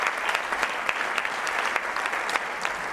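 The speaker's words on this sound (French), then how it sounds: "Je vous demande évidemment de les applaudir" Warm, sustained applause from an audience of about 500 people at a conference event, many hands clapping densely with a few sharper claps standing out close by.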